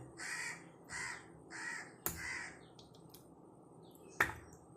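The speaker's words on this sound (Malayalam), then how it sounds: "കാക്കയ്ക്കൊക്കെ കരയാവും" Three harsh crow caws in a steady rhythm, then quieter scattered calls, with a couple of sharp snapping clicks cutting through.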